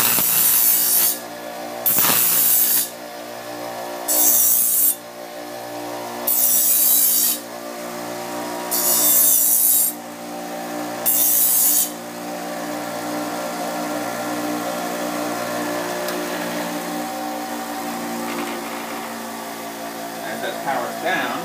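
A powered strop with stainless polishing compound polishes a knife edge: a steady motor hum runs throughout, and six rhythmic bursts of hissing abrasion mark the blade passes early on, followed by a longer stretch of plain hum.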